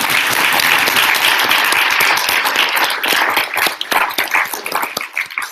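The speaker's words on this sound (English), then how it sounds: "But I hope we can welcome them all here tonight with a round of applause now at the beginning." A large audience at a formal evening debate gives sustained, dense applause welcoming the speakers, steady and loud throughout before thinning slightly toward the end.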